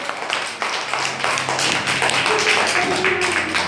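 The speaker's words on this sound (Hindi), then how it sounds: "बहुत अच्छे, ताली बजाइए।" A classroom of young children claps for a class-one poem recital, a dense, close patter of hand claps sustained for a few seconds while a voice talks over it.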